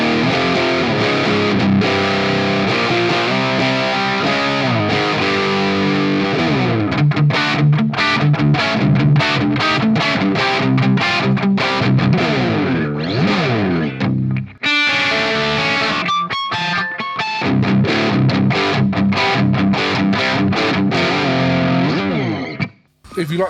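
Electric guitar played through an Amped Volcano amp simulator on its crunch channel, loud and continuous with distorted chords and riffs, a brief drop near the end of the passage.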